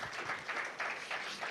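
A church congregation cheers and applauds: a steady wash of many hands clapping, moderately loud and slightly distant, pulsing gently throughout the short stretch.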